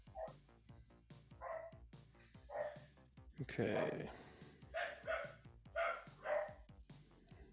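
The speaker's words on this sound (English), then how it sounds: "My dogs are going nuts right now." Several dogs bark and yip in repeated bursts from nearby, the sharp barks coming every second or so while someone talks over them indoors.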